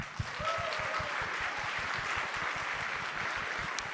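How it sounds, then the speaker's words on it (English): Audience applause at a comic con main stage in Budapest, a steady wash of clapping from a large crowd that holds evenly for several seconds, with a faint voice briefly audible over it. "please give a big clapping for this audience"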